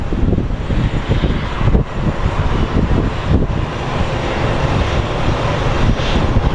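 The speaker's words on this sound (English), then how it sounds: "So up next is American Airlines 1212 departing for Vegas" An American Airlines jet departs Sky Harbor International Airport bound for Las Vegas, its engines a loud, continuous broadband roar with wind buffeting the microphone, holding steady throughout without any talk.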